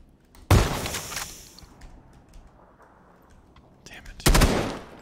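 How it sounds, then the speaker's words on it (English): Gunshots hit a vehicle tire in PUBG, with a loud close burst of rapid shots early on, a quiet stretch, then a second sharp burst near the end. "I'm gonna shoot this tire out."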